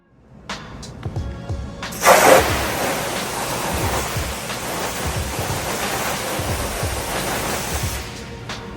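Water sprays onto the hood of a Tesla car during a water test, a steady close hiss of spray and splashing that starts abruptly and continues until it stops near the end.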